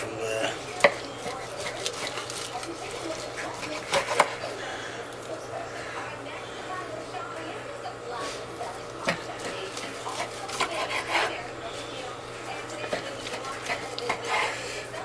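A knife slices through smoked ribs on a board, giving faint repeated cutting taps and scrapes under a steady background hum, with someone talking over the cutting.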